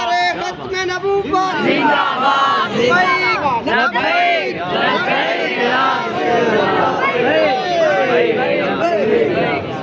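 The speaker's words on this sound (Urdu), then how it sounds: "نعرے بڑے پیارے" A large crowd at a religious conference roars out slogans in unison, loud and continuous with overlapping shouting voices filling the space.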